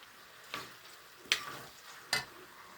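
Lapsi is stir-fried in oil with a low sizzle, as three distinct scraping strokes of a spoon sweep across the pan at a steady pace.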